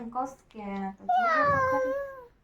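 A voice imitates a cat's meow, a drawn-out rising and falling mew after a few short babbled sounds, close and clear.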